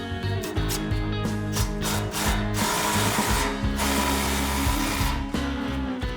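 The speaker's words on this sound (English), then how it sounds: "now we can tighten the front clamp" A power tool rattles in quick bursts while tightening an exhaust clamp on a 2019–2020 Ford Ranger Borla S-Type cat-back exhaust, close and loud, with short pauses between runs.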